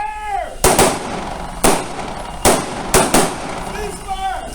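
Pistol gunshots at an outdoor police shooting range: several sharp, loud reports fire in a loose, uneven sequence, some nearly doubled, with a voice calling commands before and after the shots.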